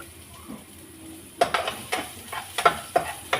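Onions fry in a pan until brown, with a steady soft sizzle under repeated scraping and stirring strokes that come in a loose rhythm, close and fairly quiet.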